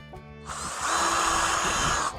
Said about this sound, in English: We're drilling pilot holes for our screws because they just tear out.